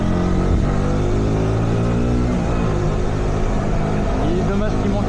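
A KTM RC 125 sport motorcycle engine revs loudly and steadily as the bike rides through small curves, pitch rising and falling with the throttle.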